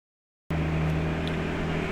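A restarted RB25 engine settles into a steady, low idle hum that cuts in abruptly after silence and holds evenly to the end.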